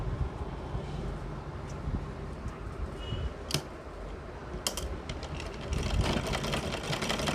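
A sewing machine stitches the sleeve of a kurti, a soft, even mechanical whir with faint clicks, running steadily and quietly in a small workroom.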